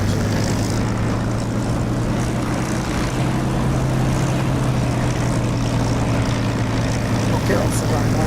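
An aircraft taxiing in the DCS flight simulator game, a loud continuous propeller-engine drone with a steady low hum, unbroken throughout and with no voice over it.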